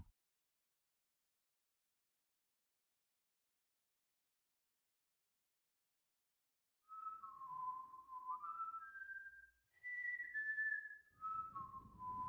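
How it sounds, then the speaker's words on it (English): After about seven seconds of silence, a person whistles a short, clear melody of rising and falling notes, close and alone. "Who's whistling?"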